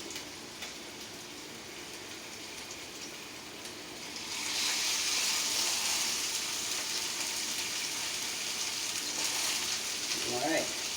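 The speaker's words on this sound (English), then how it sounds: "Oh yeah, there's that sizzle." A chicken tender strip drops into a hot pan at home, and a steady sizzle swells up about four seconds in, bright and close, holding loud until the end with a brief voice near the finish.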